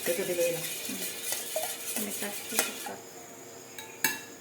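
A metal spoon scrapes and clinks against a pan as masala is stirred for cheese anda bhurji, a steady run of close scraping and tapping with a few sharper knocks and no talk.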